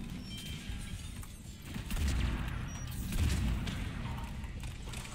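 Gunfire in Mass Effect multiplayer, a sustained rattle of shots with heavier low thumps around the middle, fairly close and steady, with no talk.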